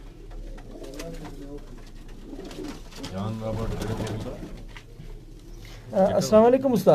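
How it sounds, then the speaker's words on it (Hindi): Ferozpuri pigeon cooing close by, soft rolling coos under a man's greeting and conversation, with a louder burst of bird sound near the end. "ये फिरोजपुरी कबूतर है"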